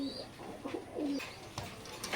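Oman blood line teddy pigeons cooing up close, with a series of soft, throaty coos that rise and fall in short phrases against faint background murmur.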